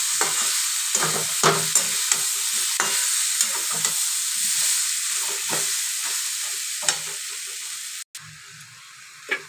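Potato, papaya and prawn curry stirred in a pan, close and continuous wet sizzling with repeated scrapes and knocks of the spoon against the pan, with no talking.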